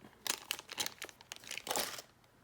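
A plastic bag holding stickers from an old LEGO battle pack crinkles close by in quick, uneven bursts for about two seconds, with no voices.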